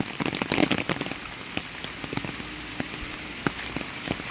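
Rain falls steadily outside a building, with scattered drips and drops tapping close by over a soft constant patter.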